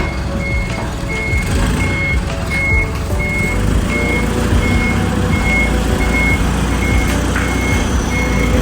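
A tow truck slowly maneuvers with a steady, evenly spaced reversing beep sounding over its low, rumbling idling engine, loud and close throughout.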